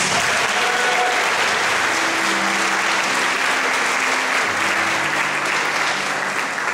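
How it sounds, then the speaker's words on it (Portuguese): A church congregation at a family worship service bursts into loud, sustained applause for Jesus, a thick wash of clapping that holds at full strength for nearly seven seconds, with faint tones and voices sounding underneath. "uma salva de palmas para Jesus"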